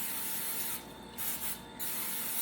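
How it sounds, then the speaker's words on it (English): A hissing coconut oil cooking spray sounds in two quick bursts onto a pan, separated by brief gaps, close by against a steady background hiss. "I am going to take some of this pan coconut oil, and I am going to spray our pan"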